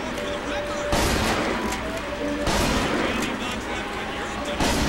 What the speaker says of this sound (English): It seems more like a real shotgun.